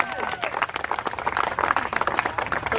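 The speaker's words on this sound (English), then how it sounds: "Give them a round of applause." Audience applause at the Polynesian Cultural Center in Hawaii, a dense, steady patter of many hands clapping at close to moderate distance, with crowd noise mixed in throughout.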